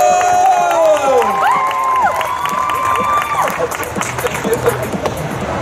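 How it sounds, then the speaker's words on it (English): A convention crowd at a Comic Con Q&A session in Holland applauds and cheers as the guest is introduced, with loud sustained clapping, whoops and shouts, and excited voices and whistles rising over the noise. "And then we'll do a huge applause."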